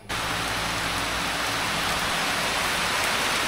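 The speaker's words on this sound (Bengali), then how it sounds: "শুরু হয়ে গেল, বৃষ্টি।" Rain begins suddenly and keeps falling hard, a loud, even hiss of drops pattering on surfaces close by, steady for a few seconds with no voices.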